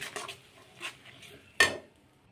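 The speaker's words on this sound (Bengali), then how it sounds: "এভাবে মশলাগুলো কষে নেওয়া হয়ে গেছে" Spices stir-fried in a pan for a dum aloo curry with tomato, quiet scraping and stirring with a couple of soft clinks and one sharp louder scrape near the end, no talk.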